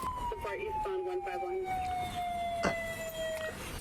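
A police car siren wails with a long, slowly falling tone over a steady background of vehicle and road noise.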